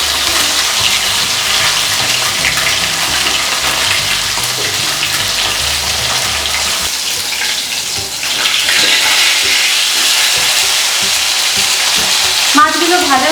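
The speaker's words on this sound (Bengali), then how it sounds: "মাছগুলো ভাজা হয়ে গিয়েছে," Pieces of katla fish fry in oil for a Bengali fish curry, giving a loud, dense, continuous sizzle close up that holds steady throughout, with a brief clatter near the end and no voices.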